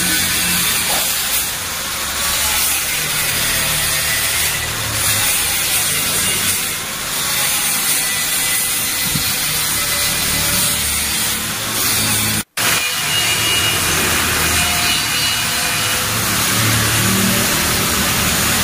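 Continuous grinding and rubbing of a power polisher working over welded seams on a stainless steel fence, loud and steady with slight surges in pitch and one abrupt momentary cutout.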